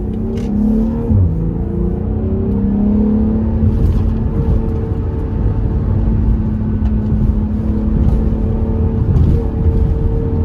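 A BMW M340i engine drones steadily while driving, with a low rumbling hum and a brief shift in pitch near the start, heard loud from inside the car.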